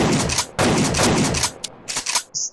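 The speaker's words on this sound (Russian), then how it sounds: "Стреляет он четко и громко вообще." Gunshots from a weapon in a shooter video game, several loud sharp reports in quick uneven succession, the last one followed by a brief high-pitched tail.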